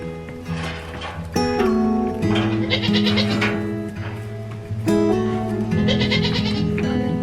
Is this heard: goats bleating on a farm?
yes